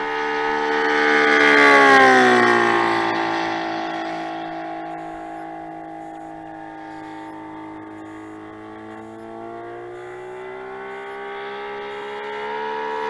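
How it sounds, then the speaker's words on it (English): A Saito FG90 R3 four-stroke radial engine on a TF Corsair model plane runs steadily nearby, its loud, rich drone rising in pitch and then settling, with no voices over it. "Good running engine."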